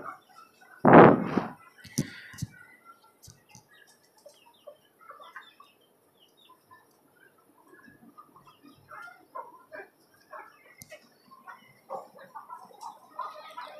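Desi chickens and chicks kept in a rooftop cage farm: one loud, close squawk near the start, then faint scattered clucks and small knocks through a quiet stretch.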